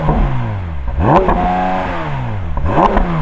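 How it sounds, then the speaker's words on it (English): A naturally aspirated flat-six car engine revs hard twice against a soft limiter, pitch sweeping up sharply and falling back between blips, loud and close with a steady idle underneath. "Let's have a listen to a naturally aspirated flat 6"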